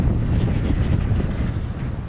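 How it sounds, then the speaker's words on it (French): Steady, heavy wind at a beach in Brazil buffets the microphone, a continuous low roar with gusts rising and falling throughout. "J'espère que vous entendez bien le vent."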